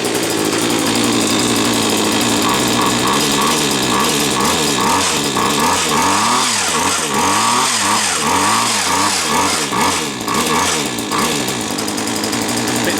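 Small two-stroke string trimmer engine running loud and close, a raspy buzzing drone that rises and falls as the throttle is blipped, with no talking over it.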